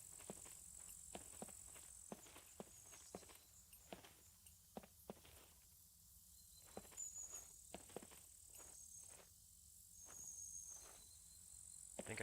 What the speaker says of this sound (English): Pretty sure they're zombie footsteps.